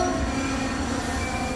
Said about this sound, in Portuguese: há sempre um apito de comboio nesta pacata freguesia do interior do Algarve